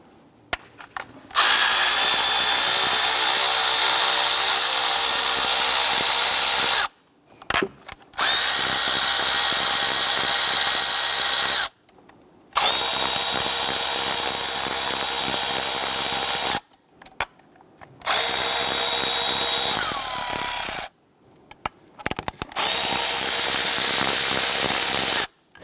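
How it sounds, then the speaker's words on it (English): A power tool spins out E8 bolts on a 3.6L V6 engine of a Jeep Grand Cherokee, in five loud, close bursts of whirring drive, each several seconds long and separated by brief silent pauses. "there are 5 E8 bolts here we want to loosen and remove"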